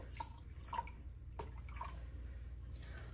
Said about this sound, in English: So I'm just gonna pour in my vinegar.